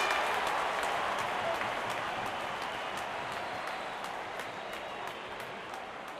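Cricket crowd at an IPL match between RCB and KKR applauding a scoop shot that went for four, a dense, sustained wash of clapping from a large stadium audience that slowly fades.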